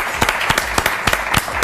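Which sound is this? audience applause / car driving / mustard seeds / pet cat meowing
audience applause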